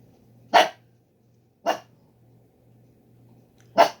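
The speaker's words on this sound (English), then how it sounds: "These people next door's dog must be out." A neighbour's dog barking next door, three single sharp barks spaced a second or two apart, moderately distant against a quiet background hum.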